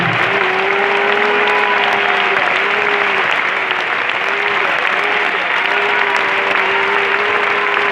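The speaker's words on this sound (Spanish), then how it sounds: "Un aplauso para Él." Church congregation applauding in a steady, sustained wash of clapping, with a sustained tonal voice or instrument drifting over the top.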